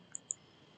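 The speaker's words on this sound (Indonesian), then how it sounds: "Kemudian kita klik" Two quick, soft mouse clicks on the Excel application icon, close together and quiet, with no talk around them.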